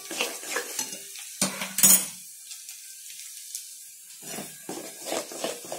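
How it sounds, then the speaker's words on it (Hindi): Flour mixture is stirred into melted jaggery in a pan, scraping and clinking of the spoon against the pan in uneven bursts with a quiet gap in the middle, close by. "इसे इस तरह से चलाते हुए ऐड करें, अच्छी तरह से मिला लें।"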